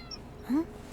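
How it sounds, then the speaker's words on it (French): One short, soft meow from a cat in the video game Dordogne rises briefly over a quiet hum, lasting well under a second. "Oh, ça doit être le chat de Nora"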